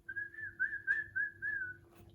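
A person whistles a cheerful melody of sustained, gliding notes, steady and clear in the foreground with a faint low hum beneath.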